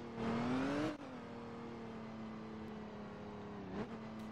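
A car engine in a video game revs up sharply, then drops back to a steady idle drone with a brief second blip near the end, close and loud, with no talking.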